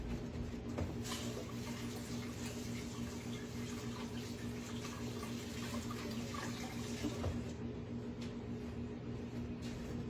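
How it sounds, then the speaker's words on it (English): Water runs steadily from a kitchen tap as hands are rinsed beneath it, a constant even splash at close range, with no talking. "I've made a mess. Let me rinse my hands in it."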